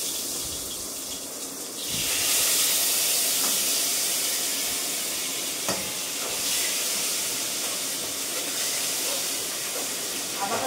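Crushed ginger dropped into hot oil for tempering bursts into a loud, steady sizzle that jumps up sharply and then holds as a bright continuous hiss, with occasional clinks of a utensil.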